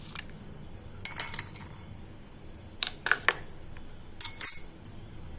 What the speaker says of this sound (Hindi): अब इसमें डालेंगे आइस क्यूब